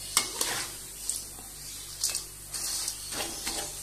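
Kara sev dough pressed through a murukku tube into hot oil: a soft, bubbling fry with intermittent clicks and scraping taps from the press, close by and moderately quiet, with no speech.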